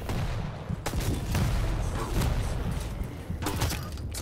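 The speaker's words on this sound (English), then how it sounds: "what a shotgun blast at the end" Gunfire and blasts from a competitive shooter video game duel, ending in a shotgun blast: a dense, loud run of sharp bursts and broadband booms with a rumbling low end, several distinct cracks standing out near the start and end.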